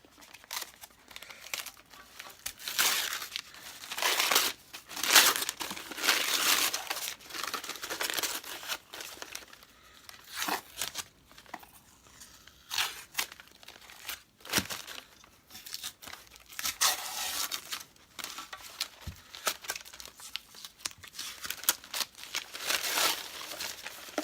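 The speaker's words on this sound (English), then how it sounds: "Ton of masking tape." Masking tape being stripped off a resprayed Hoover Junior 1334 vacuum cleaner, heard close up as continuous crinkling, peeling and tearing that rises and falls in bursts.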